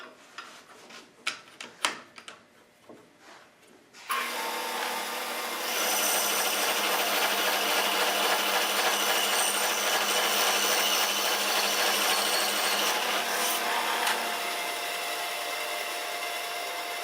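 A power saw cutting wood blocks for Celtic ring inserts in bowls, a few knocks and clatters giving way to a loud, sustained whining cut that holds steady before easing.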